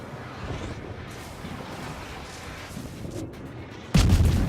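In the naval game World of Warships, 152mm armor-piercing shells strike a destroyer as a dull, rumbling barrage, followed by a sudden loud impact burst near the end.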